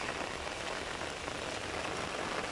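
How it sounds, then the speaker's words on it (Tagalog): Heavy rain pours steadily over an outdoor garden bed where alugbati (Malabar spinach) seedlings are being transplanted, a dense, even hiss with no voices. "Ulan masyado."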